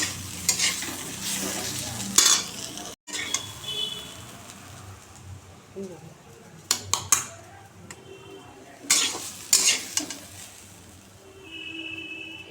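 Pomfret fish frying in a pan while being stirred: a constant sizzle under repeated scraping, clattering strokes of a metal spatula against the pan, with faint bird chirps in the background.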